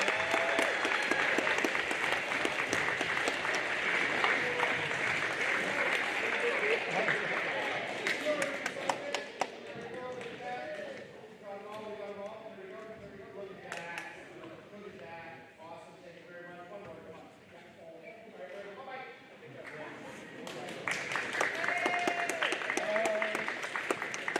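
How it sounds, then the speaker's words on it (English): School recognition assembly audience applauding loudly at the start, fading into scattered clapping and murmured talk, then swelling again near the end. "Let's have a round of applause for our B-plus honor roll students."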